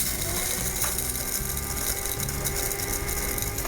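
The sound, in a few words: coffee grinder grinding black pepper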